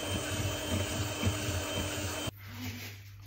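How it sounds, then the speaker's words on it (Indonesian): An electric hand mixer whirs through topfen, vegetarian fresh cheese and powdered sugar in a bowl, a steady buzzing grind with scraping pulses that stops abruptly, leaving a quieter hum. "Ini tinggal kita mixer aja."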